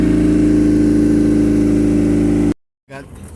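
Car engine with the exhaust resonator pipe removed, running loud and raw at a steady high rev for about two and a half seconds, then cutting off abruptly to silence before faint sounds resume.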